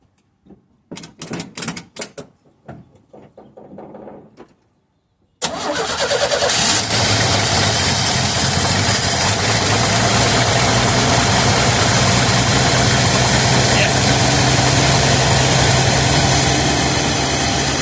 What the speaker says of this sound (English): trying to get that starter warmed up. Let's try it with the key